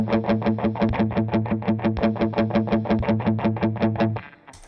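A heavily distorted electric guitar through a VVco Delayrean delay pedal pumps out a fast, steady stream of repeated notes with a pulsing delay, loud and alone, before cutting off abruptly.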